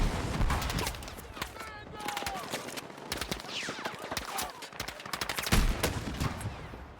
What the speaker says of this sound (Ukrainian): ляпни ще декілька пострілів туди